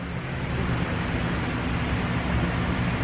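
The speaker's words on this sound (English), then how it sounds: "The AC is still going. It's gonna go on for a while." An air conditioner runs steadily in a phone repair shop, giving a constant broadband whooshing hum with a low rumble, unchanging and fairly close throughout with no talking.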